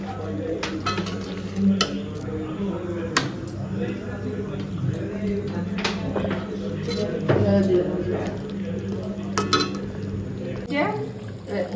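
Meat cooks in a pot with ghee for homemade biryani, with a low sizzle, a utensil stirring and scraping, and metal clinks throughout. A person talks over the cooking.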